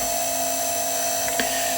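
An aluminium workpiece is drilled on a Myford lathe with an M6 tapping drill, making a steady, close mechanical whine and hum with a brief scrape near the end and no speech.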